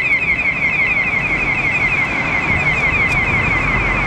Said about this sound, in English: alarm going off, and it's absolutely mental